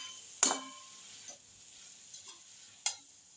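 Cabbage sabzi fried in a pan is stirred in a few sharp scrapes and clinks, with a faint sizzle running underneath, one strong stroke first and smaller taps after.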